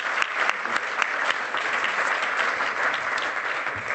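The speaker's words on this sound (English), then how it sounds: "Can we get another round of applause for everybody on the stage?" An audience at a startup funding panel claps for the speakers on stage, a steady wash of many hands applauding at moderate distance without letting up.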